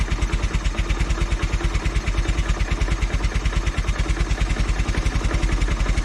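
A Riley or Velocette engine idles steadily with a rapid, even low thump, running close and loud on its own with no talk.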